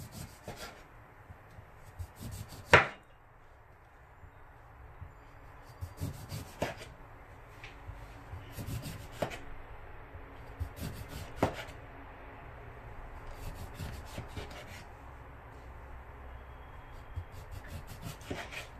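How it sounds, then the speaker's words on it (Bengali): A lime sliced with a knife on a cutting board for a homemade vitamin C drink, a series of sharp chopping taps and rubbing scrapes spread out over time, close and fairly quiet, without talking. "আর এই যে লাইমটাকে আমরা এভাবে স্লাইস করব স্লাইস করে দিতে হবে"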